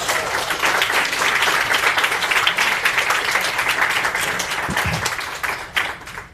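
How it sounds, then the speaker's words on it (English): An audience applauds at a queer research release event, a dense, steady round of clapping that fills the whole stretch, easing slightly toward the end. "Can I get a round of applause for Shay?"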